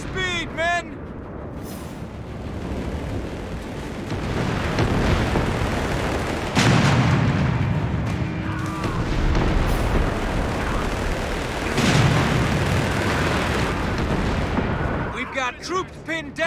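Gunfire and artillery roar through a Company of Heroes 3 Italian campaign battle: rattling rifle and machine-gun bursts mix with heavy booming shell blasts, loud and continuous, with soldiers shouting and talking throughout.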